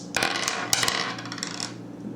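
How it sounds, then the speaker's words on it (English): Three dice clatter and tumble across a tabletop during an Earth Reborn board game, a burst of hard rattling at the start, a second sharper clack, then rolling that settles and fades, with no talk. "Make a science roll. So 1 die plus the additional 2. So 3 dice."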